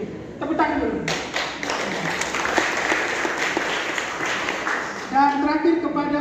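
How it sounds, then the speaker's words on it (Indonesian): An audience at a community teachers' gathering in Kupang breaks into clapping, a fairly loud, busy patter of hands that runs for several seconds, with a speaking voice heard at the start and again near the end. "Tepuk tangan dulu."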